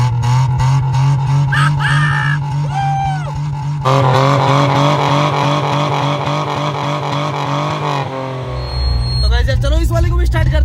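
A car with a cut silencer gives a loud, raw, race-car-like engine note, droning close by at a steady pitch before a heavier rev surges near the end, while someone talks over it.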